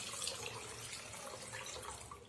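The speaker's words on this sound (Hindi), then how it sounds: "आधा लीटर पानी में इसमें और डाल रही हूँ" Water pours steadily into a pot of Sindhi kadhi, a tamarind-based curry cooking in a home kitchen, giving a continuous, close splashing rush that runs unbroken throughout.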